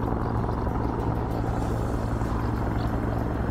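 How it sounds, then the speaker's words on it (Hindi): Helicopters flying over a national park forest fire, dropping water carried from nearby ponds and rivers; a steady, loud rotor drone with a constant low hum throughout, no voices. "आग को बुझाने के लिए बड़ी संख्या में हेलीकॉप्टर्स की भी मदद ली जा रही है"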